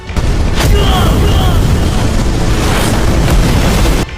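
A huge energy blast in a Chinese donghua fantasy battle scene, blowing a giant crater deep into the ground, with a loud, sustained rumbling boom that roars dense and continuous for about four seconds before cutting off.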